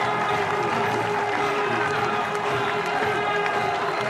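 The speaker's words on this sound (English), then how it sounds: "Cries of easy in the crowd." Cricket crowd at a one-day international between England and Australia roaring after an easy catch, a dense sustained wall of cheering and shouting that stays loud and steady throughout.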